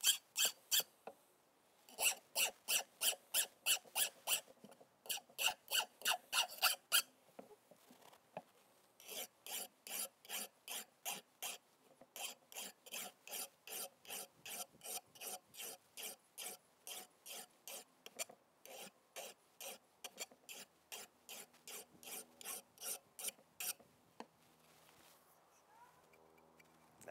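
A hand sharpener rasps back and forth along the edge of a garden tool in quick regular strokes, grouped in bursts with short pauses, close and clear against a quiet background.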